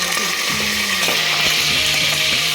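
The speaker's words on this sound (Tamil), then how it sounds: "பூண்டு போட்டுக்கலாம், பச்சை மிளகாய் போட்டுக்கலாம், கருவேப்பிலை போட்டுக்கலாம்," Garlic, green chili and curry leaves frying in hot oil for Tamil mutton gravy, a loud continuous close sizzle with scattered scrapes and taps of a spoon in the pan.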